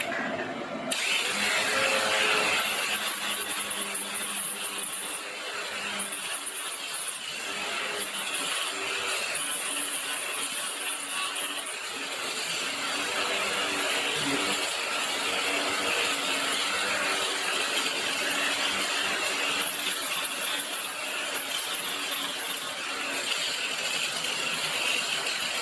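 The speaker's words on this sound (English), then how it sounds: "I'm going to use our cordless angle grinder" A cordless angle grinder grinds nickel strip residue off battery cells, giving a steady high-pitched whine and scraping buzz that carries on for the whole stretch with small dips as it works.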